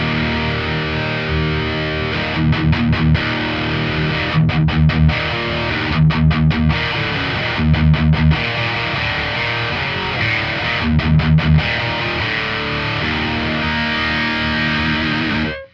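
Heavily distorted electric guitar played through a Laney Ironheart amp plugin: a chugging riff with rhythmic palm-muted stabs recurring in evenly spaced bursts, loud and close, ending with a sudden cutoff.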